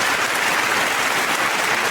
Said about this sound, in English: Let me embrace the claps.